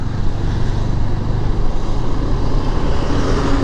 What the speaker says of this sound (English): you can judge now whether you can hear the wind noise in the helmet or not